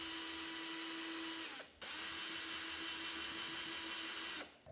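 Power screwdriver driving screws into the metal mounting plate of a TCL D2 Pro palm vein smart door lock, a steady close motor whine running for about a second and a half, a brief pause, then a longer run that cuts off near the end.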